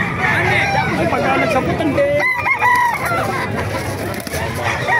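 Several roosters crow amid a busy crowd at a chicken market in Calumpit, Bulacan, Philippines, their calls rising over constant background chatter and clucking.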